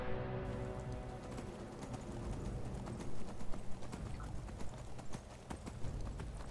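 Horse hooves clip-clopping steadily while riding in the PC game Skyrim, a dense continuous patter of footfalls mixed with a rain-like wash, moderately loud with no talk.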